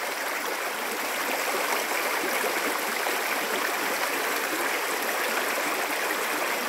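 Mountain stream at Suối Nhiệm in Đồng Văn, Hà Giang, rushing steadily with a dense, even wash of flowing water throughout, no voices.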